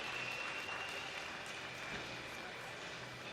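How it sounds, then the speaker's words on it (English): Crowd at a Scottish national short course swimming championships applauding and cheering for a junior champion, a steady, fairly distant wash of clapping in a large pool hall, with a voice talking over it. "He's getting a good cheer from the crowd."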